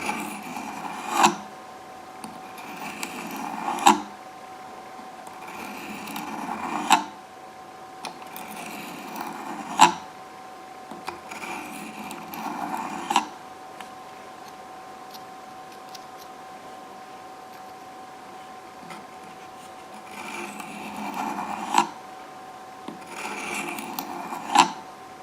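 A knife blade is drawn across an oiled tri stone in repeated rasping strokes, arriving in bursts with pauses between them, close and steady.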